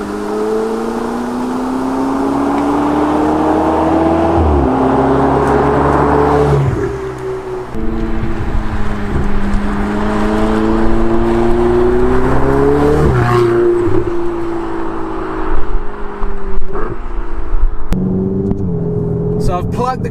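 A Ferrari 488 GTB accelerates hard through the gears, its turbocharged engine note climbing steadily and then dropping at each upshift, loud and close from inside the car with a voice talking over it.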